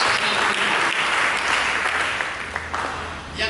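A church congregation gives a round of applause for Jesus during a sermon, close, dense clapping that stays strong and then tapers off slightly near the end.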